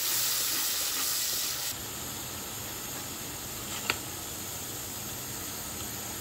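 Ginger and tomato paste frying in hot oil for aloo kumror chokka, a steady broadband sizzle and hiss that eases slightly partway through, with one brief clink of a stirring utensil.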